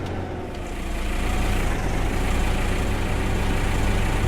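A tractor engine in Farming Simulator 2015 rumbles at a low idle, a steady, deep and fairly loud hum that rises slightly after the first second and continues without talk.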